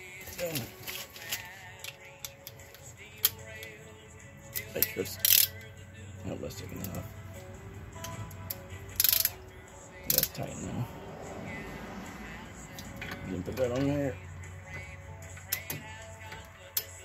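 A foot-pound torque wrench gives several sharp mechanical clicks while being tightened, scattered over a soft background with occasional movement sounds.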